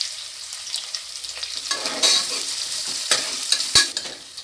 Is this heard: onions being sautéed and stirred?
yes